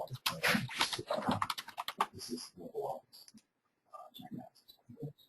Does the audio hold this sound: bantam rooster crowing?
no